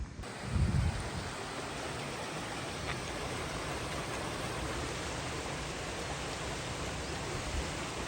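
Water in a canal beside a house, a constant broad rushing wash heard faintly and steadily, with no voices.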